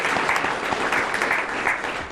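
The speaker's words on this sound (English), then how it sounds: "Can we give them a round of applause as well?" Event audience at a behavioral health show gives staff a round of applause: loud, continuous, tightly packed clapping from many hands throughout, with no speech over it.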